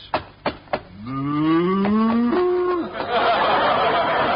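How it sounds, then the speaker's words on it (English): A cow in an old radio comedy lets out a long, loud, rising moo right after a few knocks, and noise and laughter follow it. "Gosh, a real cow."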